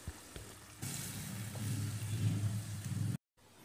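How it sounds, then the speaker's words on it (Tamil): Vegetable stew with salt cooks in a pan, giving a soft steady bubbling simmer that swells after a quiet start, low and close, then cuts off abruptly near the end. "இது கொதிக்கட்டும்."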